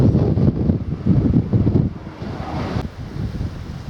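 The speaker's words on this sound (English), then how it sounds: "Don't want to be up there today. Far too windy" Strong gusts of wind on a hill walk near Beddingham Hill, between Lewes and Seaford, buffet the microphone in heavy rumbling bursts, easing a little toward the end.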